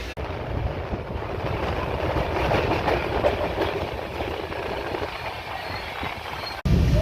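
Train on the Vijayawada to Varkala route through Kerala, heard from inside a carriage: a steady rumble and clatter of wheels on rails with a rushing background roar, loud and continuous with no voices.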